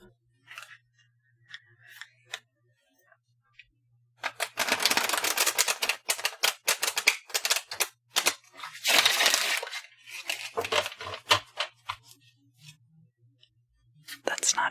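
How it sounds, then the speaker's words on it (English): A deck of large tarot cards is shuffled up close, giving bursts of crisp riffling and flapping with short taps and clicks between them, quiet at first and then busier. "I'm going to try to shuffle these cards in a way that we can get some reversals"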